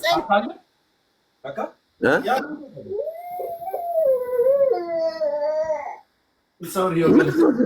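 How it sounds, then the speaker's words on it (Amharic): A baby's drawn-out wailing cry, rising and wavering for a few seconds, with people talking before and after. "ህፃን ያለቅሳል እዚህ ጋር"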